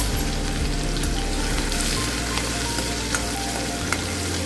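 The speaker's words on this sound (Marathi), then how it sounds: "कडकडून फोडणी झाल्यानंतर त्याच्यामध्ये भरपूर असं लसूण टाकलेलं आहे।" Garlic sizzles in hot oil tempered with asafoetida, mustard seeds and cumin, a steady, close, crackling fry that runs without a break.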